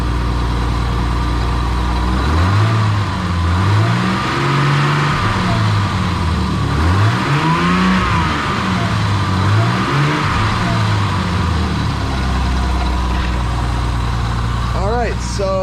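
An old BMW E12 engine with a fuel system fault revs up and down repeatedly, rising and falling in several swells over a steady running drone, close and loud.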